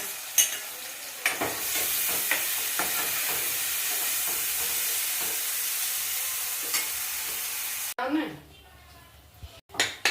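Onion, ginger, tomato, potato and green chili hit hot oil with a loud, steady sizzle and occasional clinks of stirring for about eight seconds, then the scene cuts abruptly to other sounds.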